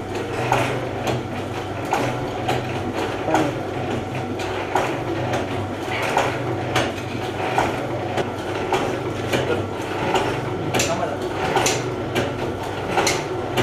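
A packaging machine runs continuously with a steady mechanical rumble and rhythmic clicking, a close, even drone with no voices.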